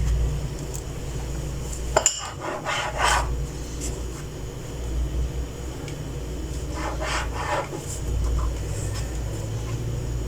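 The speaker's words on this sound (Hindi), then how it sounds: "हम यहाँ ब्रेड स्लाइसिस को काट लेते हैं। इसके किनारों को काट देंगे।" A knife saws the crusty edges off bread slices on a board, two short bursts of rasping back-and-forth strokes, close and clear against a quiet kitchen background.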